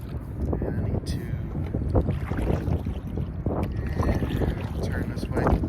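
Kayak rocked by side-on waves, with water sloshing and splashing against the hull and paddle and a steady wash of wind across the microphone, continuous and close throughout.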